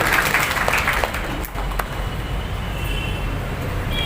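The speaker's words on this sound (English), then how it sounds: "Give a clap for Nakul Chaurasia." Audience clapping at a school investiture ceremony, a short burst of claps that fades after the first second into a low, rumbling room noise.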